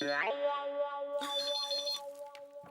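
A phone ringtone plays as a steady electronic tonal melody with sustained notes, fairly close and clear, in a sitcom household scene with no talk over it.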